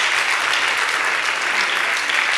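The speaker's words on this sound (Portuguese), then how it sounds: "Vamos aplaudir ao Senhor." Audience applause at a church talk, a dense and steady wash of clapping from a full room, loud and unbroken throughout.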